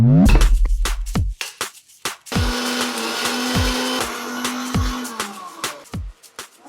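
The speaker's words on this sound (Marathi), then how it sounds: "तुम्हाला असं मिक्सर बघायला नाही मिळणार." A 35-year-old kitchen mixer grinder runs in short bursts while grinding a paste, its motor whining loudly with a steady hum and a rattling jar, switching on and off several times.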